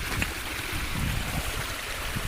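Rainwater runs along a street gutter after heavy rain on farmland, a steady close rushing and gurgling flow of water that continues unbroken and fairly loud throughout, with no talking.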